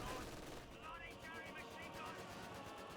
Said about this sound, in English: Vickers, MG have set up.